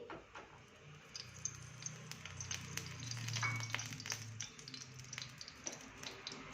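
Oil sizzles and crackles steadily in a pan, a close, continuous hiss with scattered pops and light clinks of stirring.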